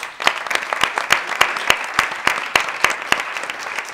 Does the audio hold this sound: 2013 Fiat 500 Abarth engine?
no